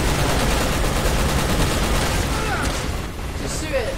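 Heavy, continuous gunfire in the action shooter Resident Evil 6, a dense, loud barrage of shots and blasts that fills the clip, easing slightly near the end.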